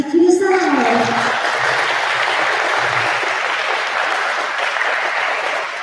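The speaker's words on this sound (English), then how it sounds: "now, yes, you can clap for yourself" Graduates and audience at a Grade 5 graduation ceremony applaud, a dense, steady wash of clapping that starts loud after a brief voice at the outset and carries on evenly throughout.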